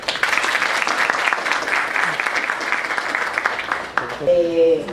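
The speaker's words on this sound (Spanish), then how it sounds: "vamos a recibirla con un fuerte aplauso" Dense applause from a large crowd, steady and loud for several seconds before tapering off as a voice begins speaking.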